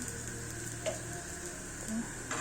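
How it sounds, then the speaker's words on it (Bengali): Patishapta crepe sizzling with ghee in a hot pan, a steady soft frying hiss with a few faint clicks, heard alone without speech. "এপিট ওপিট করে একটু ঘি লাগিয়ে দিলাম"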